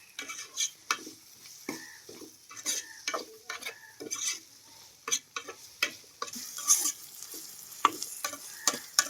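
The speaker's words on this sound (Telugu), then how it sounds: "మనకు రొయ్యి పట్టు ఉల్లిపాయలు పచ్చిమిరకాయలు కూడా వేసుకుంటున్నాను" Dried prawns fry with onions and green chillies in a pan, a soft, low sizzle broken by frequent ticking spoon strokes and light metal taps, quiet and close.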